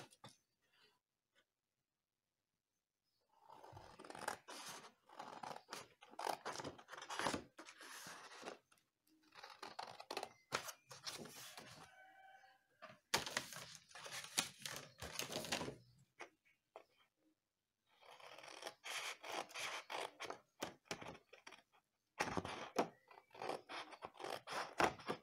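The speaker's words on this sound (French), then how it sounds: "Et là on va découper les 4 coins. On va les enlever parce qu'on s'en sert plus. Alors, je vais prendre mon ciseau." Scissors snipping the four corners off paper for a handmade mini album pocket: repeated short crisp cuts in bursts separated by pauses, close and fairly quiet, with no talking.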